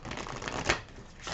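Tarot cards are shuffled by hand in a brief, close, riffling flutter with a soft slap partway through, without any talking.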